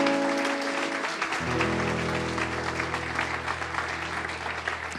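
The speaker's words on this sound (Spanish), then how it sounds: "Dele un fuerte aplauso al Señor." A church congregation at a live Bible study claps in a steady, dense round of applause, with a sustained low musical tone underneath.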